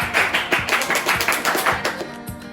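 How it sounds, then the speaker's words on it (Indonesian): A classroom audience claps for a student group after its presentation: steady, rhythmic, fairly loud hand claps that carry on without any voices. "beri aplaus dulu untuk kelompok 2"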